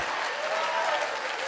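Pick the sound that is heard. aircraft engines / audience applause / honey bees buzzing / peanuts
audience applause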